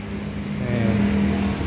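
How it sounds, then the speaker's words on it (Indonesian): A Bajaj Pulsar 220 DTS-i motorcycle engine runs close by, its steady tone lifting briefly as the revs rise, loud and with no voices. "Inilah Pulsar, Bajaj Pulsar DTS 220."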